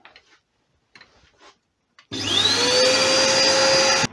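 A power sander runs steadily on a soft, punky wooden bowl on a woodturning lathe, starting abruptly after a few faint knocks and a brief quiet, then holding a loud, continuous whirring hum with a rising whine until it cuts off.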